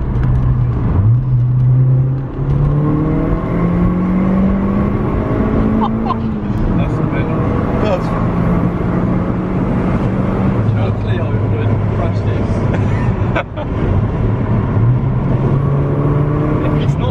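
An Audi TT accelerates with turbo boost from the cabin, the engine note climbing through several rising sweeps between gear changes, loud and continuous while people talk over it.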